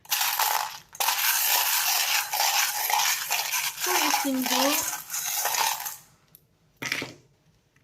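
Dice rattle and clatter continuously as they are shaken and tumbled for several seconds, then go quiet, followed by a short final burst of clattering; a brief spoken phrase is heard.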